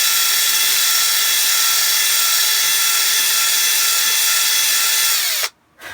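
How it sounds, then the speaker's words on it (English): A power drill whines steadily at close range for several seconds, boring a hole through ABS plastic, its pitch dipping slightly before it cuts off abruptly near the end. "I might have to make that hole a little bigger with a drill here"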